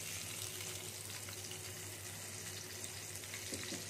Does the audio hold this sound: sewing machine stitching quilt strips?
no